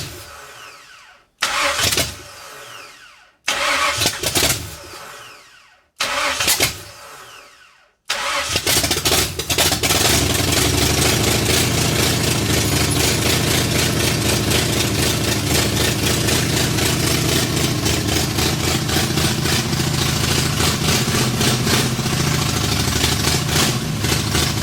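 A 1964 Ford F100 pickup truck, off the road since the 1990s, cranks in several short bursts with pauses in between. It then catches and settles into a loud, continuous rough idle.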